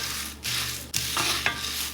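Puffed rice dry-frying in an iron wok, heard as a steady rustling, scraping stir with a few sharper scrapes against the metal, close and moderately quiet with no talk.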